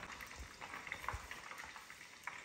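Salted doughnuts fry in a pot of hot oil, a faint, bubbling crackle with soft irregular pops and a light stirring shuffle, quiet and close with no talking.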